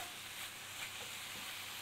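Minced meat frying in a pan for stuffed zucchini, a soft steady sizzle with faint crackles, fairly quiet and heard alone.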